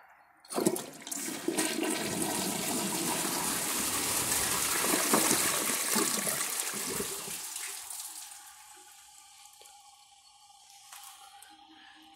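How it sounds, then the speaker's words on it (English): A Kohler toilet, Ingenium or Class 5, flushing during a dirt test with a sudden loud rush of water that roars steadily for several seconds, then gurgles down to a quieter refill trickle. "This test judges the bowl rinse and the flush."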